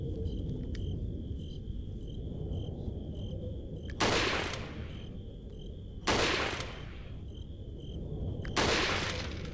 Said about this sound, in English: So let's switch to our rifle.